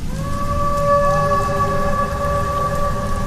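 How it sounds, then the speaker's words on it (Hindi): Heavy rain pours down as a dense, steady hiss in a cartoon storm scene, with sustained tonal notes held over it throughout. "काफी जोरों से बारिश पड़ने लगी है"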